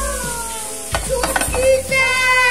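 Anchovies fry in a pan with a steady, close sizzle, broken by stirring and scraping clatters from a utensil against the pan.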